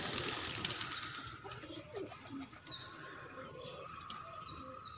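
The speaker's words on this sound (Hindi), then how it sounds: "और ये कबूतर उड़ रहे हैं किसी के," Pigeons coo in soft, repeated low calls amid a steady outdoor background, with faint rustling and occasional higher chirps, moderately close and with no speech.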